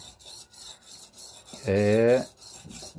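A blade is sharpened by hand on a sharpening stone at a luthier's bench, producing quick, even rasping strokes close by, with a brief voice sound in the middle.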